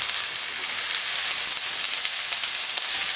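Garlic sizzling in hot oil in a pan, a loud, steady, bright hiss with small crackling pops throughout, close up and with no voices.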